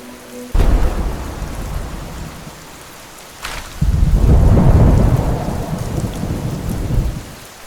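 A thunderstorm at night brings heavy rain and two loud thunder crashes, one early and a longer rolling one midway, with rain hissing steadily throughout and no voices.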